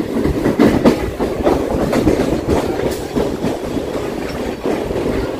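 A local train at Ranaghat station gives a steady, loud rail rumble with repeated clickety-clack wheel beats running throughout, with no voices.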